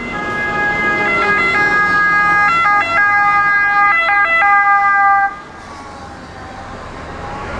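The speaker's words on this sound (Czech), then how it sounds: "zdravotníci, pokud je zavoláte, rádi přijedou samozřejmě sanitkou" An ambulance siren on the island of Ischia, Italy wails in a repeating two-tone pattern, loud and close over road noise, then cuts off abruptly, leaving a quieter traffic hum.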